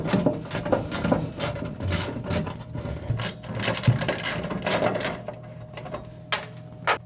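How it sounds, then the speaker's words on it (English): A ratchet wrench with a 9mm deep socket backs long bolts off the front of a soda vending machine, giving rapid, steady metallic clicking and ratcheting at close range over a faint low hum, with brief pauses between bursts. "I have 9mm deep socket that's going to fit on those to remove them."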